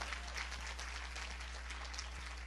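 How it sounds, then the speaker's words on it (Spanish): A brief burst of applause from a church worship congregation, dense clapping that holds steady for a couple of seconds under a low constant hum. "Si le da un aplauso"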